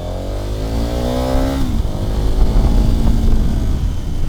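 A 2015 KTM 1290 Super Adventure motorcycle engine revs up with a rising exhaust note, then settles into a rough, steady rumble as it pulls away close by.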